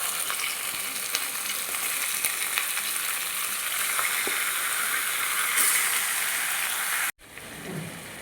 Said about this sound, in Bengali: মাংসগুলো আমার ভাজা ভাজা হয়ে গেছে।